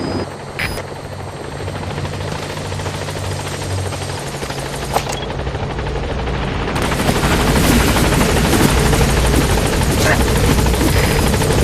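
A support helicopter in Metal Gear Solid V arrives at a landing zone: a loud, continuous rotor drone that swells and grows denser as it nears, with brief sharp clicks along the way.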